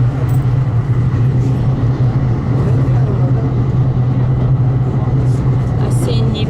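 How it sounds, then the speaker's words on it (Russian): A two-car tram rolls along the seafront street in Antalya, a steady loud low rumble and drone passing close by with continuous traffic-like noise. "Очень колоритный трамвайчик. Ходит прям вдоль берега моря."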